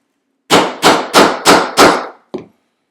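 A hammer taps snap-replacement hardware into place with five sharp, evenly spaced metallic blows, followed by a lighter sixth tap after a short pause, loud and close in an otherwise quiet room.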